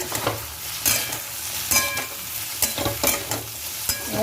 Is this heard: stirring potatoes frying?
yes